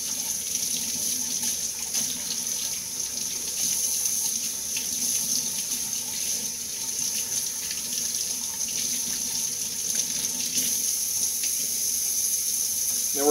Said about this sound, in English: So the easiest way to do that is kind of rinse it out with your sink.